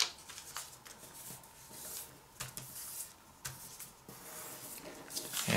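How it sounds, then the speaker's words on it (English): Paper being creased and folded into an origami ninja star, heard as soft, close rustles and crisp taps in short bursts against a quiet room. "I'm going to fold it the other way."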